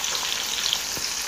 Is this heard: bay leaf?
yes